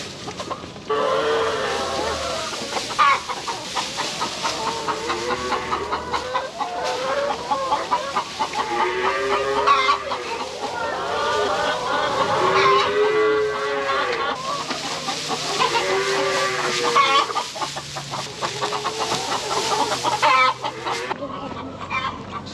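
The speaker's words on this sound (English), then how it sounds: "Good morning, chicken. Time to eat." Farm chickens cluck and squawk at feeding time, a dense, continuous chorus of many birds close by, rising and falling in repeated bursts with no talk.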